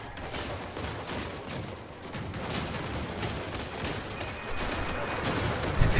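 Battle gunfire from a Crossout vehicle combat game fills the scene with dense, overlapping booms and bursts that rumble on without pause, growing a little louder toward the end.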